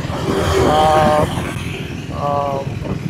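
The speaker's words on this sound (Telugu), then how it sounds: "ఇంకా ఇంజిన్ నాయిస్ విషయానికి వస్తే కొంచెం నాయిస్గానే ఉంది" A Triumph Scrambler 400 with a 400cc liquid-cooled single-cylinder engine is ridden, and its engine gives a continuous, fairly loud low rumble. A person talks over the engine noise.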